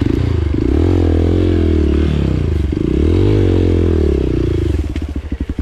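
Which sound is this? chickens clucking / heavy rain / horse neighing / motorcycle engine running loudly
motorcycle engine running loudly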